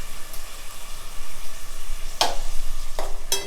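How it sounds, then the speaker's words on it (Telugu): Tomatoes sizzle steadily in a hot pan while fish curry is cooked, a constant soft crackle broken by a few sharp spatters near the end. "టమాటా కూడా బాగా వేగిపోయిందండి."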